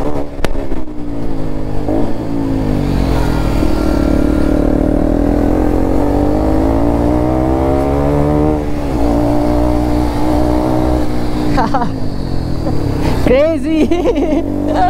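Kawasaki Ninja and KTM RC sport motorcycles racing: a loud, close, continuous engine drone whose pitch climbs and falls with revving, and some voices join near the end.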